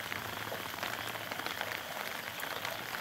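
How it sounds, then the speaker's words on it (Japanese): Heavy rain pours down on a forest at night, a dense, steady hiss that stays loud and even throughout with no voices. "この過酷な雨の中で頑張っております"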